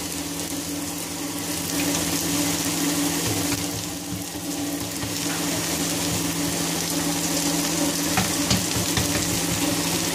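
A stuffed beef mince paratha fries in oil on a pan, a steady loud sizzle with crackling bursts and a faint hum beneath, no talking.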